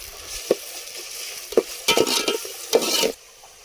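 Onions fry in hot oil under a constant hiss while a spatula knocks and scrapes the pan in several sharp, irregular strokes, close and unaccompanied.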